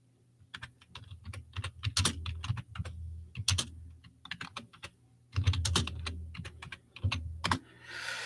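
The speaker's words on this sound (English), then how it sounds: "let me just type something back real quick" Rapid typing on a computer keyboard, close and clear, with bursts of quick key clicks separated by brief pauses and a heavier flurry of keystrokes near the end.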